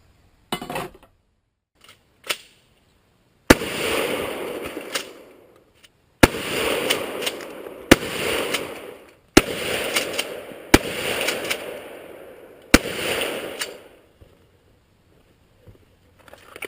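A Cuisinart coffee machine being shot and blasted apart, with a series of sharp, loud close-range cracks each followed by a spray of crashing, rattling debris, about six main hits with short pauses between.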